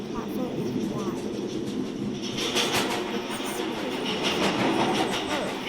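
New York City subway train running between stations, a steady loud rumble with rhythmic wheel clatter and rising screeches, heard from inside the car.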